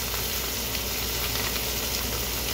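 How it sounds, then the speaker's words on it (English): Loud, steady sizzling and crackling of spices frying in hot oil, continuous and close, with no voices. "because it's going to sizzle on you"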